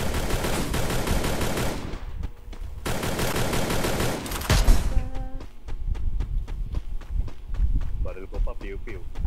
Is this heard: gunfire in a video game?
yes